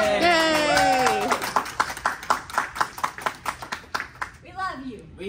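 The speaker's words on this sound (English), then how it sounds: "Give yourselves a round of applause." A small group claps hands in a quick round of applause for several seconds, with talking and voices over the start and end.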